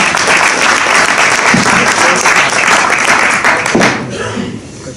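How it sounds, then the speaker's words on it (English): Audience applause at a conference on inclusion and diversity in Antwerp, a dense, loud wash of clapping that carries steadily and tapers near the end, with a few voices mixed in. "A big applause for Ginny and Warren."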